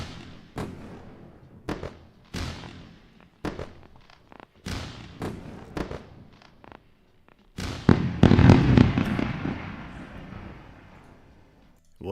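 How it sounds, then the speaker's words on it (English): Fireworks go off as a sound effect in a string of sharp, loud bangs spaced about a second apart, then a dense crackling burst of rapid pops that fades away. "What a good time to have a round of fireworks."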